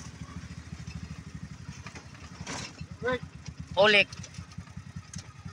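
A motorcycle engine idles with a steady, rapid low putter throughout, while a person speaks briefly over it.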